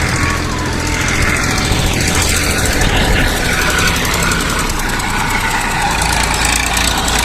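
A tractor engine runs steadily while digging a pit at a riverside picnic spot, giving a loud, continuous rumbling drone with a rough, knocking texture that holds unbroken throughout.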